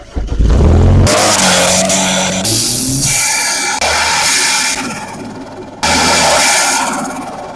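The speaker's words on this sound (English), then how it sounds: "the best engine sound" A car engine revs hard several times, loud and close, each burst rising in pitch before dropping back to a rumbling idle between pulls.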